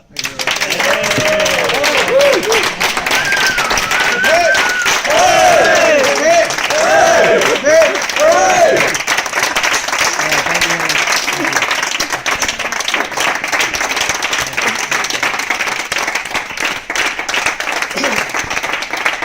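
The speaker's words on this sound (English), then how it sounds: "let's all stand up and give Owen a huge, genuine, heartfelt round of applause" An audience applauds at a feedback session after an MMCP event in London, with loud, dense clapping that carries on without a break, a few voices calling out and cheering at first.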